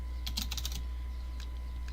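Computer keyboard being typed on, a quick burst of several keystrokes followed by a lone later tap, close and fairly crisp over a steady low hum.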